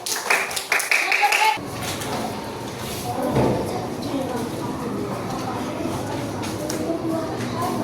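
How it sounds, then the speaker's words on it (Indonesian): A third-grade primary school class bursts into sustained, dense applause for a student after a brief quieter moment with voices. "Tepuk tangan untuk nomor 2."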